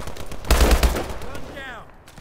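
Gunfire in the shooter game Call of Duty: Advanced Warfare, a short loud burst of shots lasting about half a second, followed by a rising whine and quieter game ambience.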